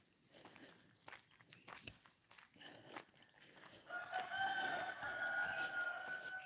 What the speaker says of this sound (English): So many roosters.